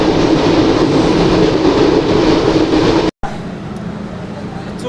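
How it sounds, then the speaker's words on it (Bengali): The Benapole Express rushes along the tracks at high speed in a loud, continuous roar that cuts off abruptly and then settles into a quieter rumble with faint rattling. "ট্রেনটি খুব দ্রুত চলছে"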